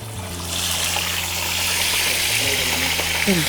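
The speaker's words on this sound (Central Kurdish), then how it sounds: "ئەوە ئەو ماسیەکە سوور ئەدەتەوە" Fish frying in hot oil gives off a continuous loud sizzle and crackle, with a low steady hum underneath and faint background voices.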